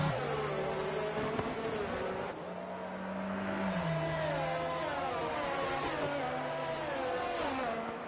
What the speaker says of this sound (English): He is going full throttle.